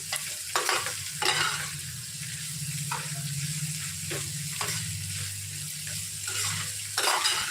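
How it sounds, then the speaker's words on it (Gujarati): Chopped onion sautés in a pan with a continuous sizzle, broken by repeated bursts of scraping and clanking as a spoon stirs against the metal, close and moderately loud, with no one talking. "ત્યારબાદ હવે આપણે ચોખ કરેલી ડુંગળી ઉમેરશું અને ડુંગળીને આપણે બે જ મિનિટ સાતરશું"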